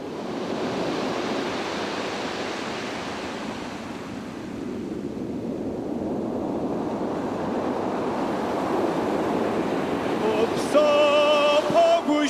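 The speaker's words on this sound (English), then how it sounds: "Just hearing in the echoes of maybe the waves that hit the rocks" Sea waves break against rocks in a continuous rushing, hissing surf that swells and recedes with a windy edge, then a faint tonal voice enters near the end.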